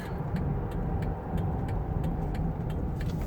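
Car rolling slowly to pull in, a steady low engine and road rumble close up with faint regular ticking, like a turn signal, above it.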